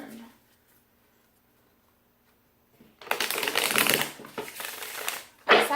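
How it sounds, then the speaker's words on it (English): Tarot cards shuffled by hand in a burst of crisp riffling and flicking, close and fairly loud after a quiet start, with a second short flurry at the end. "One more shuffle and then..."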